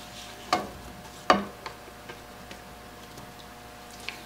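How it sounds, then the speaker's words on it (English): Sausages dropped into oil in a skillet, with two sharp sizzling bursts as they hit the pan followed by a few fainter pops and crackles, close and without talk. "I'm gonna go ahead and add these to it and let them start cooking"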